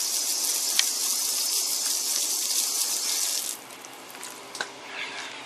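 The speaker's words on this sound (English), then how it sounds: "Just give it a quick hose down." Water hosing down a fishing reel, a steady loud hiss and splash that runs for a few seconds and then drops to a quieter trickle with a few small knocks.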